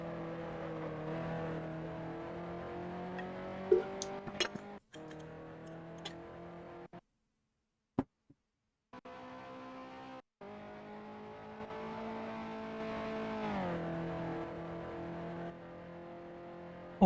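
Race car engines in Grand Prix Legends, a droning engine note rising and falling with gear changes, a few sharp ticks, a couple of brief cutouts to near silence, then the steady revving returns.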